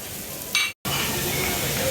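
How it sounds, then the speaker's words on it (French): Fish grilling at a hotel buffet in Djerba, Tunisia, giving a steady close sizzle and hiss with a brief louder burst and a short cutout partway through. "On a du poisson ici qui sont en train de faire griller"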